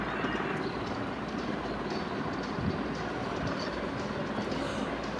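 A train rolls through the Central Zoo in the Zooba video game, giving a steady, continuous rumble with faint rhythmic clatter that holds at an even loudness throughout.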